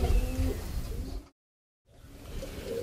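A prize racing pigeon coos softly and close by in a few low, murmuring phrases, broken by a moment of complete silence before the cooing resumes.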